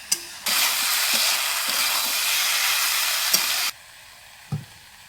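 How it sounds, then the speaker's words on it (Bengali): Spices, bay leaf, potatoes and prawn paste frying in a Bengali village kitchen: a loud steady sizzle runs for about three seconds with a few stirring scrapes, then drops back to a faint hiss with one last clink. "এই তেজপাতাটা দিয়ে দিলাম মশলাটা এখন কষা হবে এই আলু আর সারের সঙ্গে"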